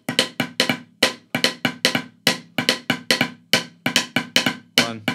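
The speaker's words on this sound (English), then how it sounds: "4/3 polyrhythm sounds like this." A marching snare drum plays a four-against-three polyrhythm, crisp sharp strokes in a repeating uneven cluster pattern, close and clear with nothing else heard.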